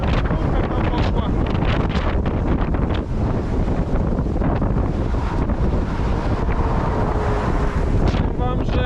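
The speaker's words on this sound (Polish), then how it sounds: "bardzo silny wiatr, bardzo silna skórka tam poszła." Very strong wind from a downburst storm roars and buffets the microphone continuously, loud gusty rushing noise with rumbling low end throughout, and a voice briefly audible beneath it.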